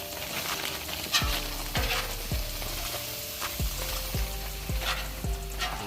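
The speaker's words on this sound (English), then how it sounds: "We're finna cook the veggies." Vegetables frying on a hibachi grill outdoors in the rain, a close, steady sizzle broken by a run of sharp scraping and tapping strokes from a spatula about every half second.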